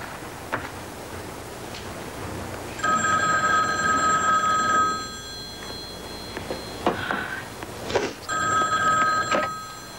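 A telephone rings in a quiet room in a 1988 drama, two clear electronic ring bursts separated by a pause, loud and close over faint background noise.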